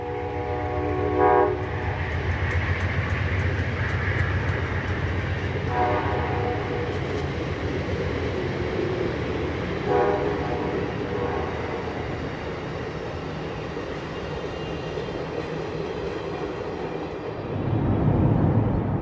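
Amtrak 91 passenger train pulls out of its station stop at Jacksonville heading south on the A-line, its horn blaring in several loud blasts over a steady close rumble of wheels and engine.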